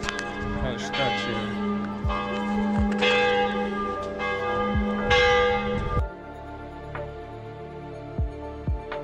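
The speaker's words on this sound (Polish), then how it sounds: "Biją dzwony" Church bells ring out in Hallstatt, Austria, a dense clanging peal with repeated strikes and long ringing overtones for about six seconds, then a few softer lingering tolls as the peal fades.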